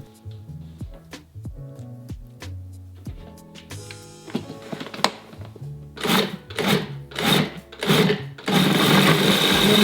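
A food processor chops pitted dates into a cacao and walnut mixture for a raw vegan crust. It starts with short, sparse pulses and builds into louder, longer bursts, ending in a sustained grinding whir.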